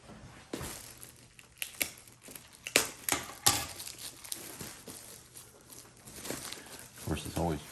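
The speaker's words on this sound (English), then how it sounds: "we'll get this cut open" The cardboard box of a Trustech KPT-1608F fan heater is cut open by hand, with irregular crinkling, scraping and tearing sounds that come in short bursts at moderate to faint volume, and a few quieter handling noises between them.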